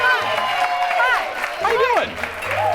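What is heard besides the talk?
audience applause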